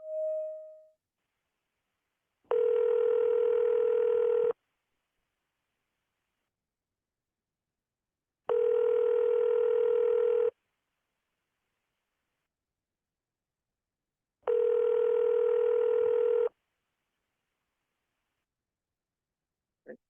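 A phone call rings back on the line with three steady ringback tones, each about two seconds long and separated by pauses of about four seconds, heard alone in near silence.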